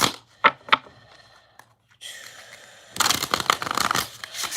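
Tarot cards being shuffled by hand, heard as several short papery riffles and snaps early on, then a dense, continuous riffling burst near the end, close and fairly quiet with no talking.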